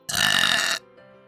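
A single long, loud burp from a VTuber, lasting under a second and then cutting off into near quiet with a faint tonal trace.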